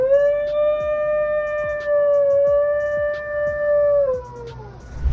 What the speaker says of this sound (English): The New Guinea singing dog doesn't bark like other dogs,